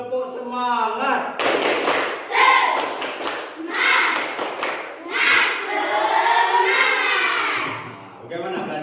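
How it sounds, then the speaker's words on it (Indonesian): Children in a classroom clap together in a rhythmic chant pattern, a sharp, dense burst of hand claps standing up, fairly close and loud, with voices chanting over and between the claps. "Tepuk 1, tepuk 2, tepuk 3, tepuk semangat."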